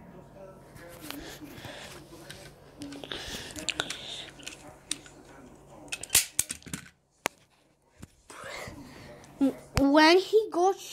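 Sharp cap-gun-like shots fired at Mickey Mouse in a video game, a few scattered cracks amid quieter clicks and game sounds, with a voice talking in between.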